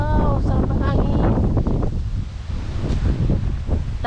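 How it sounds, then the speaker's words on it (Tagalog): Strong wind roars and buffets the microphone throughout on a walk to Cape D'Aguilar, with a voice briefly heard near the start. "wow, sarap ng hangin."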